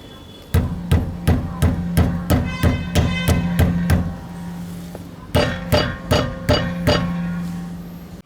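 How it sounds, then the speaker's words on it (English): Repeated sharp metallic knocks on a car's brake caliper while checking for suspension noise on rough roads, about a dozen evenly spaced strikes, then a short pause and a second similar series, close and loud with a ringing tone. "you have to put two of your fingers on the brake caliper itself and then hit it again"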